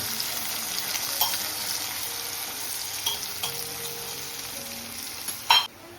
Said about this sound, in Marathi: चला आता आपण मिरची टाकू